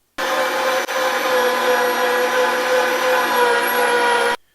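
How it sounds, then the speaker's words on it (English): A loud budget electric meat grinder runs steadily with a harsh motor whine and grinding rattle, starting abruptly, briefly dipping once, then stopping sharply. "I stepped it up and I bought a meat grinder off of Amazon."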